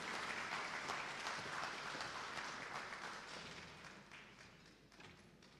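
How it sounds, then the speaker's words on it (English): A summit audience applauds a newly introduced speaker, a full, even roll of many clapping hands that slowly fades toward the end, heard alone without talk. "Please give him a round of applause."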